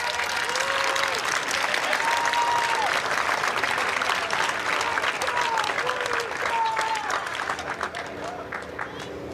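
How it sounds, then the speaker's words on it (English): A crowd of fans cheers and applauds at the Cops for Cancer Tour de Rock finale, sustained clapping and crowd noise while a person talks over it. "Lots of fans in the crowd."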